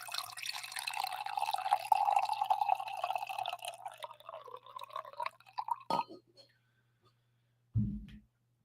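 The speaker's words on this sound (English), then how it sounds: "Let's get a little coffee pour here for the home stretch." Coffee poured into a cup at a desk, a steady liquid trickle lasting about five seconds that tapers into a few drips, followed by a short knock near the end.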